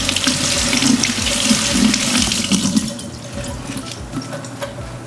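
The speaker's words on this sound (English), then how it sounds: "I'm going to wash this because I have not pre-washed it" A kitchen tap runs strong and close as fresh rosemary is rinsed under it, then the flow eases and becomes quieter for the last couple of seconds, with no talking.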